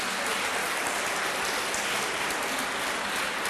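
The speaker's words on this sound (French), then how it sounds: "Béatrice de l'équipe CESAG, sous vos applaudissements" Audience applause at a French competition event, following a call to applaud a team member: a steady, dense wash of clapping with no individual claps standing out, sounding much like rain. It holds at an even level throughout, with no talking.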